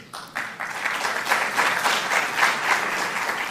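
An audience applauds steadily, a dense wash of clapping that swells slightly and holds without talk.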